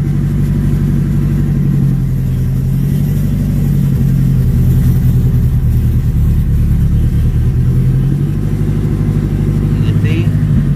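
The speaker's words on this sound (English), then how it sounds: "Guys, we just started the car." A cold-started car engine with a hybrid gearbox, part of an AWD conversion, runs steadily and loudly at close range with a rumbling low drone and slight revving under the engine note, and a voice talks over it.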